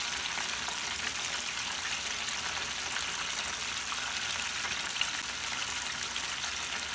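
Fish fillets deep-frying in clean, fresh oil for a crispy Southern-style fry, a steady dense sizzle and bubbling hiss that runs evenly throughout without any voices.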